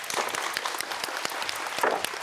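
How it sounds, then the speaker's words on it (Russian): Studio audience applauding on a Russian TV lottery game show in 1998, a steady burst of dense clapping at moderate level, brief and continuous. "Мы аплодируем вам за смелость."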